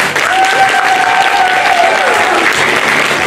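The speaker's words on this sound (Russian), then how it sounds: "Больше и больше аплодисментов, дорогие друзья." Audience applause at a school or studio reporting concert, a dense, steady wash of many hands clapping close and loud throughout, with a faint sustained musical tone running through the middle.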